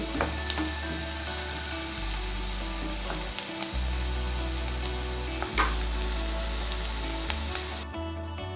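Onions fry in hot oil with a steady, close crackling sizzle that holds evenly throughout, with a few faint clicks on top.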